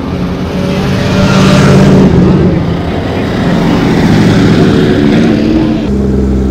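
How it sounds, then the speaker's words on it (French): A Porsche GT3 and a Ferrari F355 GTS pulling away at the Le Mans Classic, loud engine roar building then easing, steady and close, with crowd ambience around it. "On vient d'avoir un petit démarrage de Porsche GT3 et une F355 GTS."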